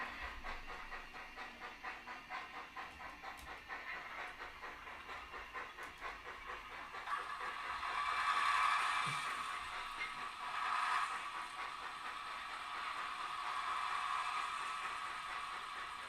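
A J15 steam locomotive in a train video game runs with a steady hiss of steam and rhythmic mechanical chuffing, swelling slightly louder midway, with no talk over it.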